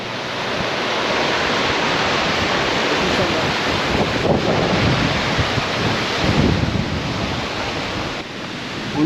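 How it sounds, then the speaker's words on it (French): Water pours steadily through a small dam on a canal feeding channel, a continuous broad rushing roar that stays loud and close throughout with no pauses. "qui laisse passer l'eau"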